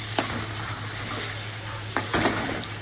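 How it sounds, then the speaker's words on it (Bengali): Spices with turmeric and tomato sizzle steadily in a pan for a mutton dish, with a few sharp scrapes and clinks from stirring over the constant frying hiss. "মশলাটা কষাবো ভালো করে, দিয়ে একে একে হলুদের গুঁড়ো দেব। হলুদের গুঁড়ো দিয়ে আবার একটু কষাবো।"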